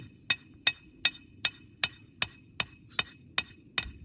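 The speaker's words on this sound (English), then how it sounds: "drilling and driving copper electrodes down into the ground about 1 meter." Sharp metallic hammer strikes drive copper electrodes about 1 meter into the ground, ringing out in an even rhythm, about ten blows at a steady pace, with faint background noise between them.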